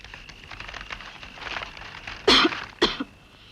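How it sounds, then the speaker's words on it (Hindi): A man coughs twice in a quiet indoor scene from a 1981 Hindi film: two short, rough bursts close to the listener, the second a little weaker, over faint background noise. "शहर के नाम से सबको ही खांसी आ जाती है।"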